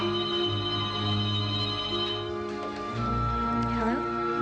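A telephone rings in a tense scene from a Wes Craven slasher film, a repeated electronic ring tone sounding steadily with a brief break, overlaid by background score.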